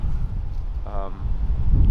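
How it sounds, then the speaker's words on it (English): Strong, cold wind buffets the microphone in the North Dakota Badlands, a rumbling low gusting roar that swells and eases, with a voice briefly heard partway through. "But it's really windy, really cold"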